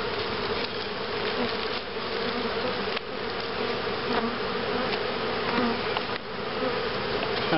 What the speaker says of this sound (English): There goes 300 happy bees.